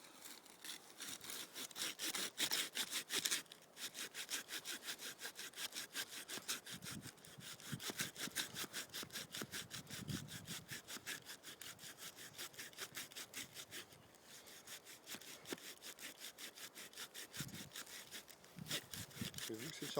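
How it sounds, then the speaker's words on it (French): A hand saw rasps steadily through resin-laden wood in quick back-and-forth strokes, close and loud, with a few brief pauses along the way. "essayer d'en couper un petit peu à la scie"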